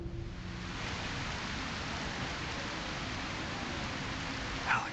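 Steady rain in the video game A Quiet Place: The Road Ahead, a dense, even hiss of falling water with a faint low rumble beneath, continuous and moderately loud with no speech.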